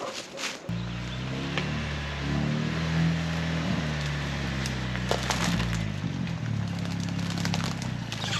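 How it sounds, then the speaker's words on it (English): Ford Bronco engine idling and rumbling at low speed on a narrow wooded trail, a steady low drone starting after a brief rustle, with branches snapping and scraping against the vehicle. "I just want to drive and kind of test and make sure I made the trail wide enough"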